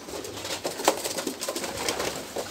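Pigeons coo softly and repeatedly at close range, forming a continuous low murmuring with a few slightly louder calls.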